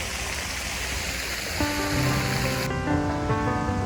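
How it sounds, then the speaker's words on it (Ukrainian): Steady broadband rush of flowing water fills the scene, with tonal music or chimes entering partway through over the continuous wash. "цей шум води діє заспокійливо на людину"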